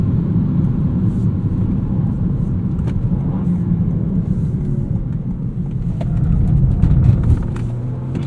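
A 2019 Toyota Corolla XSE hatchback with a six-speed manual gearbox pulls hard in second gear, its engine a loud, steady low drone that rises slightly near the end, heard from inside the cabin.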